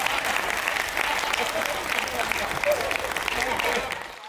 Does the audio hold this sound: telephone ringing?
no